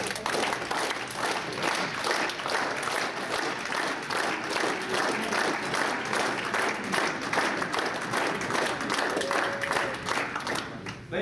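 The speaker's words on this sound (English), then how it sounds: "I always like to get people clapping for the fun part." An indoor audience claps steadily at a ceremony, a dense, even wash of applause that carries on without letup for about eleven seconds.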